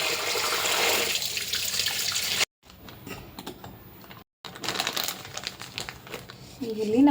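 Salted food being rinsed in water at a sink: steady splashing and crinkly handling, broken by short silent gaps, with a voice talking briefly near the end.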